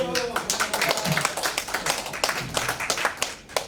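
A theology conference audience bursts into clapping at the speaker's prompt. A voice is heard at the start, then a burst of clapping runs under faint talk.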